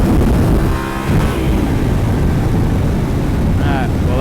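A motorcycle rides on its back wheel at 80, giving a loud, steady engine roar mixed with heavy wind rush on a windscreen-mounted camera, with a speaking voice partly buried in the noise.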